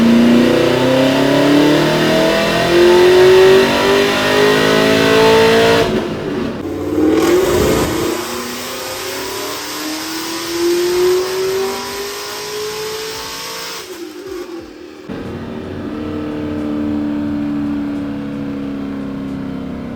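A supercharged Pontiac G8 running on E85 accelerates hard, its engine note climbing steadily through the gears with brief dips at each shift, loud and continuous from outside.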